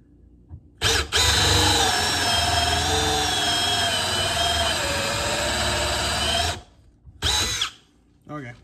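A Milwaukee M12 Gen3 cordless hammer drill (3404-20) on speed 2 whines loudly and steadily for several seconds, briefly stops, then revs again in a short burst.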